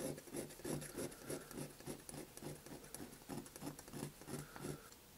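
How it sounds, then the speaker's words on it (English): A hand file rasps across an uneven metal casting in steady, rhythmic back-and-forth strokes, close and fairly quiet, with no talking. "I'm just going to take some of this off with a file until we get down to the point where we can sand."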